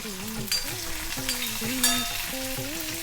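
Mustard seeds, urad dal, curry leaves and green chillies frying in hot oil in a kadai: a continuous sizzle with scattered crackles and pops throughout, close and fairly loud.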